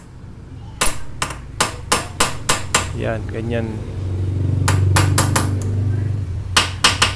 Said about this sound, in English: yung sounds niya solid pag pinukpok natin